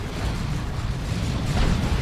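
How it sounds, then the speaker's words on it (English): A plasma cannon shot explodes in Dawn of War 2 as a deep, rumbling boom that holds loud and steady for two seconds amid dense battle noise and swells slightly toward the end. "That's a good plasma cannon shot."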